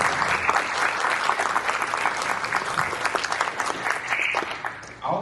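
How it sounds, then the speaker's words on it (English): Audience applause for a mayoral candidate at an evening community session, a lively, sustained burst of clapping from a sizeable crowd lasting about five seconds before tapering off abruptly. "Let's give him a big round of applause."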